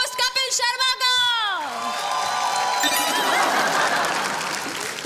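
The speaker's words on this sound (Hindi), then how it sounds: "जोरदार तालियों से स्वागत करें" An awards show audience greets host Kapil Sharma with applause and cheering, a dense crowd wash swelling after a sweeping music sting and spoken introduction, continuing loud and steady.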